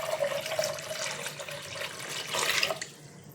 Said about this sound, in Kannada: ಕಾಬೂಲಿ ಚೆನ್ನ ಬೇಯೋದಕ್ಕೆ ಸ್ವಲ್ಪ ನೀರು ಹಾಕೊಳ್ತಿದ್ದೀನಿ.